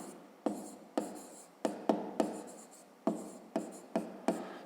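A pen scratching across paper as a fifth-grade maths exercise is written out, in a series of about ten short, distinct strokes with brief pauses between them, close and clear with no talk.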